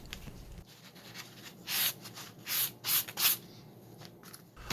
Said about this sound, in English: I'll start by cutting and trimming the parts and then cleaning them up.